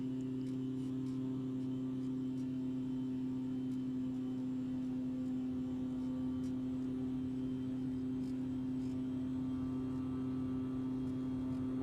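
Twin turboprop engines of a Beechcraft C-90 King Air in the X-Plane 11 flight simulator, spooling up for takeoff: a steady, loud droning hum with strong low tonal bands, unbroken and even throughout.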